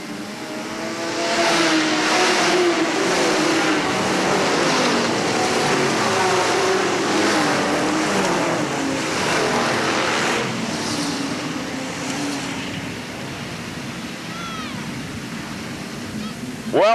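Sportsman stock cars roar around Hales Corners Speedway in 1989, a continuous loud engine drone with passing revs, while an announcer talks over the racing.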